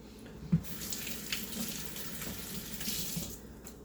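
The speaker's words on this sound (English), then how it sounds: "wash your hands before you like touch anything" Tap water running steadily into a sink for handwashing, a continuous close splashing rush with a small knock near the start.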